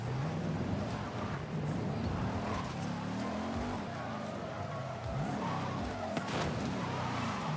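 Car in the Forza Horizon 5 video game driving on a winter obstacle course, engine revving and rising and falling with tire skids and squeals, loud and continuous without talk.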